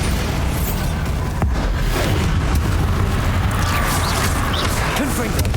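Bombarda blasting spell explosions in the fantasy game Hogwarts Legacy, loud booming bursts with a sharp crack early on, amid continuous combat noise and scattered magical effects.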